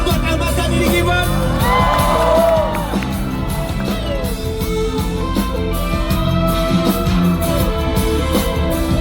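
Concert crowd cheering for the keyboardist during a live show at WATCHON FEST 2024, a loud sustained roar of whoops and yells mixed with music and a voice over the sound system.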